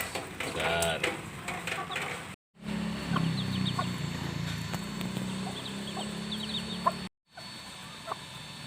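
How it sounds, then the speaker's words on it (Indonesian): Chickens cluck and call in a backyard flock as a girl feeds them, with a low steady rumble underneath, a voice speaking at the start, and two brief dropouts breaking the sound. "Ini anak wedok nih kasih makan ayam."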